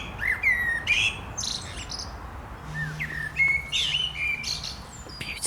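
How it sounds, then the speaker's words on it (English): Outdoors in a garden, birds sing bright, clear chirps and whistled phrases in repeated bursts, fairly close, over a soft background hiss and a faint low hum. "That bird song's rather beautiful"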